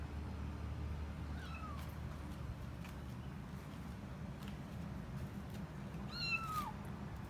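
A kitten trapped inside the rear bumper of a Tesla Model X gives two faint, thin meows several seconds apart, muffled and distant over a low steady background hum, with no talking.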